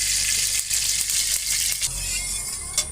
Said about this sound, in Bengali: তো এবার কড়াইতে দিয়ে দিলাম সরিষার তেল